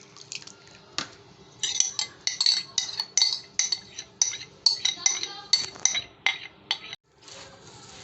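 A utensil works chicken tikka pieces into whisked yogurt marinade in a bowl, giving rapid, close clinks and scrapes in an uneven rhythm with soft wet squelches and a short pause near the end.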